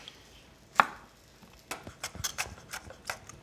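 Stems are pulled and snapped off serrano and jalapeño peppers in a kitchen, giving a few faint, sharp snaps and crisp clicks, one louder crack near the start.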